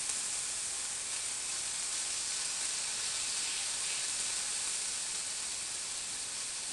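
Sauerkraut warming in a pan gives off a steady, even sizzle and hiss that holds at one level throughout, close and moderately quiet, with no voices.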